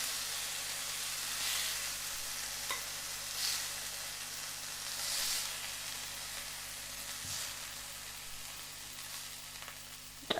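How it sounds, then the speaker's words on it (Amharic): Chicken frying in a pan gives off a steady, quiet sizzle with a soft crackling hiss and occasional faint pops, with no one talking. "በዚህ መልኩ በዚህ መንገድ እንጠብሰዋለን ማለት ነው።"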